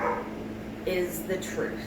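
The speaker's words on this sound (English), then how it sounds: "Please excuse the barking." A dog barks a few times in short yips and woofs, moderately close, partly under a person talking indoors.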